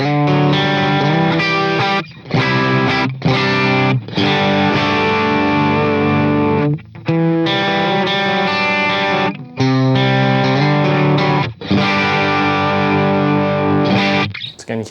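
A bass guitar played through an EP Blue side pedal with some gain, a distorted, textured, darkened tone in a run of sustained notes and phrases separated by short gaps, loud and alone.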